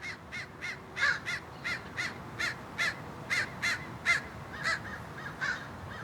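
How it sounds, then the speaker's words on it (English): Crows cawing in a steady series of about a dozen harsh calls, fairly close and loud over a low background rumble, with no voices. "Crows."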